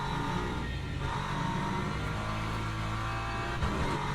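BMW GT3 car in the Le Mans Ultimate racing game, its engine droning steadily with a throttle blip on the downshift, loud and close with no talk.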